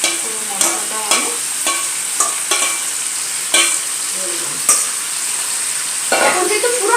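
Chicken and spices frying over a high flame for Radhuni chicken, a loud continuous sizzle punctuated by repeated quick clattering stirs of a spoon in the pan, close and uninterrupted by speech.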